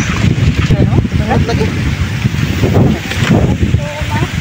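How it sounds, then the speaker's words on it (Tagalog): Strong mountain wind by a stream buffets the microphone in a constant rough roar, with voices talking intermittently underneath. "Sarap ng simoy ng hangin. Malakas ang hangin galing sa bundok."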